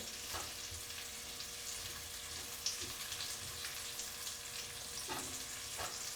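Shrimp sizzling in a pan for chipotle shrimp tacos, a faint, even frying hiss with a few soft clinks and stirring touches.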